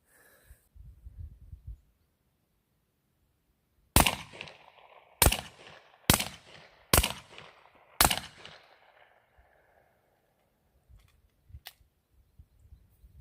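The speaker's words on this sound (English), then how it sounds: "Now we're going to shoot the Rock Island with the Hybrid 46M short configuration." Five sharp suppressed pistol shots come from a Rock Island fitted with a SilencerCo Hybrid 46M suppressor in short configuration. Each loud crack is about a second apart and leaves a brief decaying ring, followed by a single fainter click.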